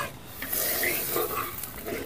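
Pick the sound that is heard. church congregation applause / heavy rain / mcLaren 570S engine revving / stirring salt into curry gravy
stirring salt into curry gravy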